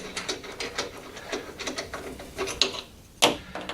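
Orange plastic wing nuts being unscrewed from a Hyundai-powered P1PE P4600SP lawn mower give a close, rapid series of ratcheting plastic clicks and rubs, ending in a couple of sharper snaps.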